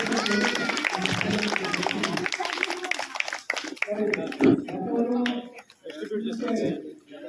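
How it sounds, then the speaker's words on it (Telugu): A crowd of schoolchildren claps together at a primary school's 80th Independence Day celebration in Damacharla. Scattered, dense applause runs under a loud speaking voice and general crowd chatter. "క్లాప్స్ కొట్టండి, అందరు క్లాప్స్ కొట్టండి"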